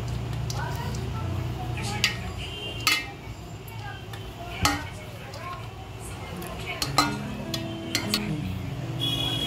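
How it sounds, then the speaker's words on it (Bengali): Rice being stirred in a pot for homemade mutton biryani, with a spoon scraping and clinking sharply against the metal pot at irregular intervals while someone talks over the kitchen sounds. "রাইসটা একটু চাড়িয়ে নেবো ভালো করে।"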